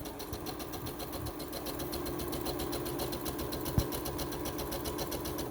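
A sewing machine back-stitching the crotch seam of pajama shorts, running at a steady, even mechanical whir with a fast regular needle rhythm and one small thump near the end.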